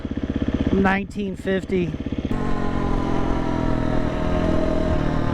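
A KTM 350 dirt bike engine runs close by, its rapid exhaust pulses rising and falling with throttle blips before settling into a steady drone as it rides off, with a brief spoken word in the middle.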